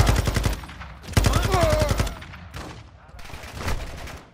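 Call of Duty: Modern Warfare II combat, with sustained bursts of rapid automatic gunfire close by in three separate volleys, dense and loud, with short gaps between bursts.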